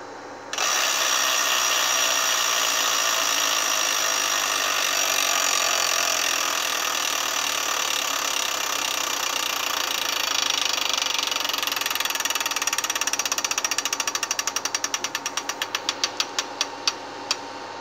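An electronic Wheel of Fortune tabletop game spins its wheel with a steady mechanical whir, close and loud, ending in a run of quickening then slowing ticks as it comes to rest.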